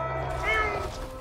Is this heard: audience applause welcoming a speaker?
no